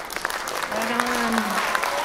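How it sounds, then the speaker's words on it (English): Audience clapping at a college electronic music concert, a dense, even patter filling the short stretch while a voice briefly speaks over it. "Let's give him a rousing applause so we can take his bow."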